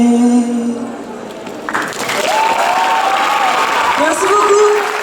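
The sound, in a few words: audience applauding after a poetry performance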